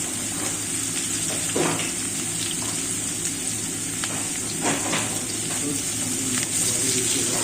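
Food frying in hot oil in a home kitchen, a steady broadband sizzle and crackle running continuously, fairly close and even, with faint bursts of clatter and no talk.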